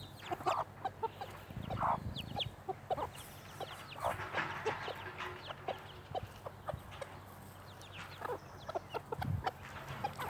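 Silkie mother hens cluck in a coop pen with chicks nearby, a steady run of close, repeated clucks and short calls with a few louder squawks and low farmyard rumble underneath.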